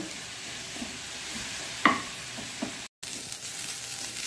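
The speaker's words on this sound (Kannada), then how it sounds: "ಇದು ಇಲ್ಲಿ ಫ್ರೈ ಆಗ್ತಾ ಉಂಟು." Beetroot frying in a pan for chutney gives a steady close sizzle, broken by a sharp scrape of stirring and a few lighter clinks, with a brief dropout near the end.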